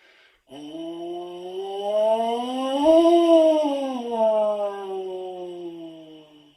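A baritone mouthpiece buzzed on its own, a steady brassy siren tone that slides smoothly up in pitch and then back down, close and fairly loud throughout.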